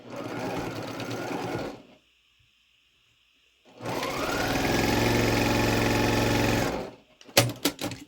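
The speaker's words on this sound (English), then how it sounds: "we'll sew these 2 center pieces together first and then add the side rectangles" A sewing machine stitches two quilt block center pieces together in two loud, steady runs, the first about two seconds and the second about three, with a quiet pause between and a few sharp clicks at the end.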